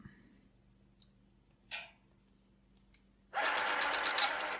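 A vintage TRS-80 PC-1 pocket computer printer being powered up and run: a couple of faint clicks and a brief whir, then a loud, steady mechanical buzz of the print mechanism running close by.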